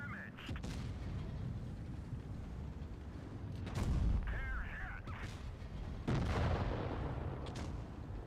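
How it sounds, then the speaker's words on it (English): A garbage gun fires in a video game as a few heavy, booming blasts over a steady rumbling backdrop, the strongest bursts coming near the middle and later in the clip. "He's using the garbage gun."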